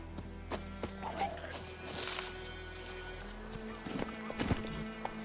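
Roach, a horse in The Witcher 3, clip-clops along in steady hoofbeats with an occasional whinny, heard over game sounds with no talking.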